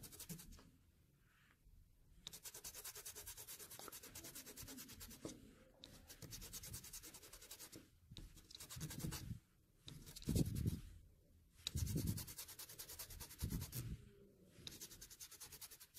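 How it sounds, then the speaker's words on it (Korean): Rhythmic scratchy rubbing of sandpaper in bursts of strokes with short pauses between, close and fairly quiet. "사포로 얘를 갈면 손이 부드러워지더라고요"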